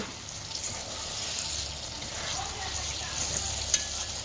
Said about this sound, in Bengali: এবার ঢাকনাটি খুলে নেব। হালকা নাড়িয়ে নেব।